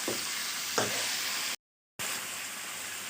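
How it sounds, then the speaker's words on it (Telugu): Chicken with mint leaves is stirred in a hot pan, giving a steady, close sizzle with a couple of scraping stir strokes, broken by a short silent dropout before the frying resumes. "ఈ విధంగా కలుపుకుంటూ పుదీనా ఆకంతా దీంట్లో కలవాలన్నమాట."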